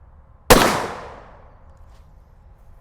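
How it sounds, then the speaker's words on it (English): A single sharp report from a Ruger American Ranch rifle fired at a target rings out loud and close, then trails off in a fading outdoor echo. "so that was a 5-shot group, and we are all dead center in the orange on that target down there"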